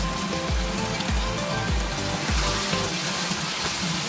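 A splash of water goes into a pan of homemade Indo-Chinese chili chicken and sets off a dense hiss. Soft low thumps recur about twice a second through the sizzle.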